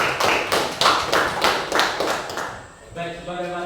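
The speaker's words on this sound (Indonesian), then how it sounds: "Kita berikan aplaus terkesang untuk Anastasia" Classroom applause for a student named Anastasia after she leads the class in prayer: a short burst of claps from a group of pupils, rhythmic and fairly close, fading out after about two and a half seconds as a teacher's voice follows.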